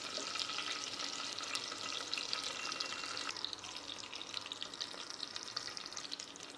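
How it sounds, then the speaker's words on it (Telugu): Chopped onion pieces hiss and sizzle steadily in hot oil already holding cumin, mustard seeds and fried green chillies, a dense close frying sound that carries on without pause under faint clattering. "ఈ విధంగా పచ్చిమిర్చి వేగిన తర్వాత ఆనియన్ ముక్కలు వేస్తున్నాను"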